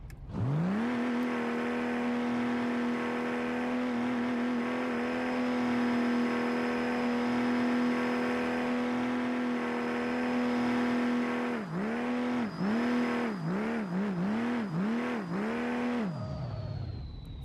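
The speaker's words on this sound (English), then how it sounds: "I will admit the diesel engine's really good" Diesel car engine in BeamNG, a loud sustained engine drone holding steady pitch for several seconds, then a rapid series of rev blips rising and falling before cutting off.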